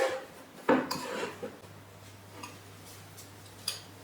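A spoon works melted butter into crushed petit beurre biscuit crumbs for a no-bake mango cheesecake base, giving a few sharp clinks and scrapes against the bowl and then soft gritty rubbing, close and quiet.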